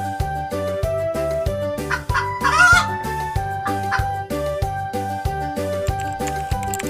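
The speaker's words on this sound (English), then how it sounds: "A hen is a female chicken." Chicken clucking: a hen gives a brief, bright run of clucks in the middle, partly masked by a steady, upbeat children's music track that plays throughout.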